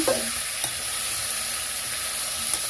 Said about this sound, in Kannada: ಇದನ್ನು ಹಾಕ್ಕೊಳ್ತಿದ್ದೀನಿ ಇದಕ್ಕೆ ಬಾಣಲಿಗೆ ಅದು ಎಣ್ಣೆಲ್ಲ ಎಣ್ಣೆಲ್ಲ ಫ್ರೈ ಆಗಬೇಕು